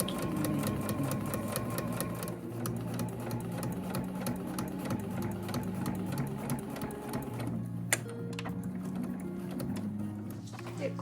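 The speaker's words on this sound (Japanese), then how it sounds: "長いものを縫うときはしっかりと指の位置を固定して、そのままミシンの速度に合わせて軽く押さえていくときれいに縫えていきます" A household sewing machine stitches long nylon handles for a tote bag, a fast, steady mechanical whirring and ticking running close and continuous throughout, with a brief pause near the end and a voice talking over it.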